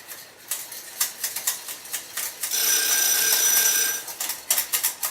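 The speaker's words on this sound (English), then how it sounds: "my timer's gone off" A kitchen timer on a stovetop goes off while creamy rice cooks, giving a bright, insistent electronic ringing in repeated bursts, with one longer continuous stretch in the middle, heard alone and close.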